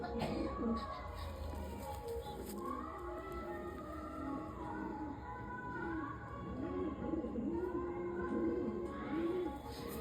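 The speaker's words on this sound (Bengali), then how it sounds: "কালিঙ্কার পায়রা।" Kalinkar pigeons cooing in soft, rolling bursts through a loft, mixed with background chatter and other bird sounds, and someone talks over them at times.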